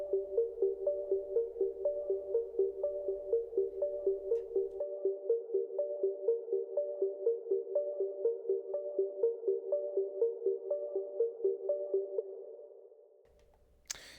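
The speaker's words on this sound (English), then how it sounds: "And this is the third sound. It is an ARP." Simple three-note synth arpeggio built from stock Bitwig plugins, a soft pinging pattern cycling steadily for about twelve seconds before fading out, alone with no voice.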